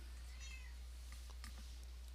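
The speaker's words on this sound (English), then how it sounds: "and that is my cat" A pet cat named Minx meows softly a few times indoors, faint and close, over a steady low electrical hum with no talking.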